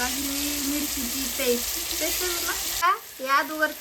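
Cumin and mustard seeds crackle and sizzle in hot oil for a dal tempering, a steady close frying hiss that drops off near the end into brief stirring clatter.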